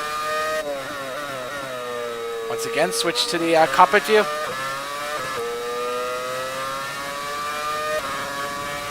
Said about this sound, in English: Wow, that engine noise brings back a lot of memories.